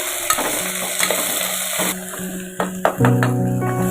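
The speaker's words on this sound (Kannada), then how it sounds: "ಸ್ವಲ್ಪ ಎಣ್ಣೆಯಲ್ಲಿ ಹುರಿತೀನಿ ಕ್ಯಾರೆಟ್ ಮತ್ತು ಕ್ಯಾಬೇಜಿನ ಎಣ್ಣೆಯಲ್ಲಿ ಚೆನ್ನಾಗಿ ಹುರ್ಕೋತೀನಿ" Carrot and cabbage fry in oil in a pan while a utensil stirs them, giving steady close sizzling with scraping knocks around the middle and end. A faint tonal hum runs underneath, and no one speaks.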